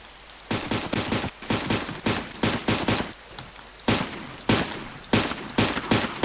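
Rapid bursts of gunfire from a military shooter video game, several loud, close volleys fired in quick succession with short gaps between them and no talk over them.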